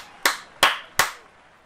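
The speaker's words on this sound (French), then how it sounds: "Allez, on l'applaudit bien fort." Three sharp, evenly spaced claps ring out at an awards ceremony for the best climber of the Tour de France, each a crisp isolated hand clap fading quickly, thinner than a full crowd's applause.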